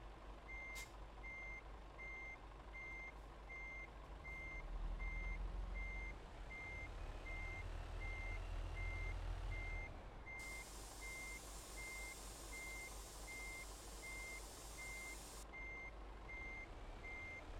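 A truck in Euro Truck Simulator 2 backs up to a loading ramp, its reversing beeper pulsing in an even, steady rhythm over a low diesel rumble that swells mid-clip, with a brief hiss of air near the end.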